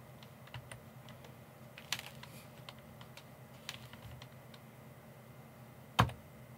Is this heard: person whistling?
no